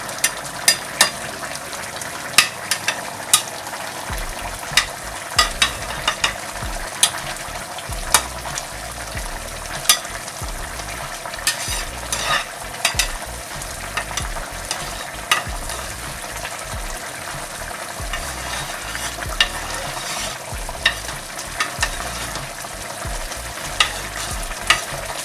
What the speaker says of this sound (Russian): Там, где кипит интенсивнее, туда мы аккуратненько перекидываем рис.